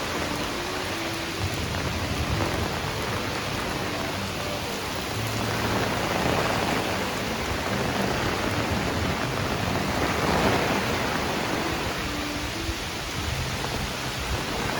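Heavy rainstorm in the North Country pours down in a dense, constant hiss of rain on surfaces, with low rumbles of thunder swelling now and then underneath.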